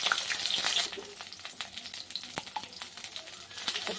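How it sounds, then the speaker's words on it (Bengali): Brinjal frying in hot oil gives a steady, close sizzle with dense crackling and scattered sharp pops, continuing throughout with no talking. "তেল দিয়ে দিয়েছি। আগে বেগুনটা ভাজি"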